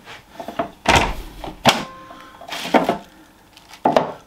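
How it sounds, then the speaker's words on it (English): The drawer of a Cosori dual zone air fryer, still packed with packaging, is pulled out with several loud plastic thunks and knocks, irregular clatters and rattles spread over a few seconds. "Quite hard to pull the drawers out"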